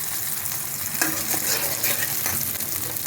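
A sizzling pan of frying onion and mustard paste hisses as water is added, with steady bubbling and some stirring clatter close by; no talking.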